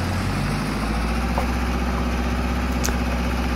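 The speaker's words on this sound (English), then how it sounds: "If I get the engine started." A powerful 200HP tractor in a farming video game settles into a steady, low rumbling idle, its engine drone continuous and close with a faint mechanical vibration throughout and no talking over it.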